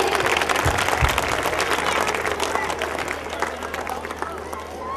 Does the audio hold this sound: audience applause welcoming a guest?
yes